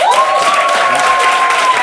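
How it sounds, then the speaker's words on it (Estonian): An audience applauds the winning team at a comedy quiz show, a loud, dense wash of clapping that fills the moment, with a sustained tone ringing over it. "meil on vaja teha üks suur aplaus meie tänasele võitjale"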